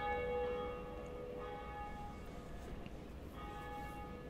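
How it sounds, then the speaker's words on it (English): A church-style bell rings in the Dark Souls video game, its sustained tonal partials holding steady and then sounding again near the end over a dense, low game ambience. "And there's the first bell of lore."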